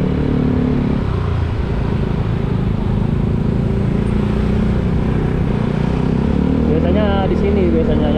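Busy evening road in Bali with motorcycles and cars passing in a steady, loud traffic rumble, engines droning continuously close by while a voice talks over it.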